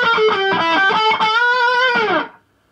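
Distorted electric guitar playing the opening of a song's solo, a fast run of loud overdriven notes followed by a held bending note that cuts off, alone with no talk.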